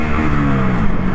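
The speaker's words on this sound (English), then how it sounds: "I hear the stock exhaust is like a sewing machine." A Honda Grom motorcycle's stock exhaust runs loud and close, a steady buzzing engine drone with a sewing-machine character.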